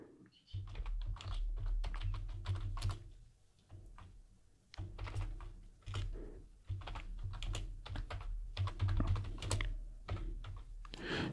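Fast, irregular keystrokes on a computer keyboard as an apt update command is typed on a Debian 11 server, close and clear, in bursts with brief pauses and no talking.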